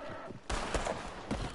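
A few loud revolver shots in a Red Dead Online duel, the first cracking out after a short pause, then more sharp reports spaced across the next second with lingering reverberation.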